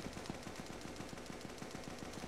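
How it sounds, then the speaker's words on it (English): Rapid automatic gunfire from an M4A1 in the Roblox game Area 51 Outbreak, a fast even stream of shots, faint and distant, with no talking over it. "I hear so many gunshots."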